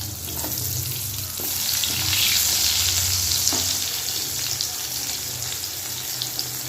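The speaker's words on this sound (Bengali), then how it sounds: "এখন আমি পটলটা ভেজে নেব।" Pointed gourd (potol) frying in a pan with salt, giving a steady sizzle that swells midway, with a few light clinks and taps over the hiss and no talking.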